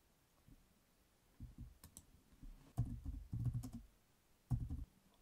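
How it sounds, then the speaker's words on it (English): Keystrokes on a computer keyboard come in short irregular bursts, typing a task list into a whiteboard app, close and fairly quiet, with pauses between the flurries. "After typing the tasks"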